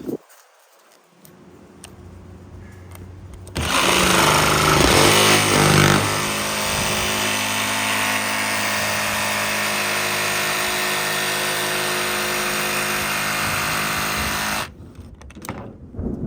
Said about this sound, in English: like this is a jigsaw. Make this part of your kit. You'll be very happy with the precise cuts you can do with it.